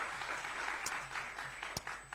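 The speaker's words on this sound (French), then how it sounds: "Il faut beaucoup applaudir" Audience applause at an event about preparatory classes, a steady wash of many hands clapping at moderate distance with a couple of sharper claps standing out.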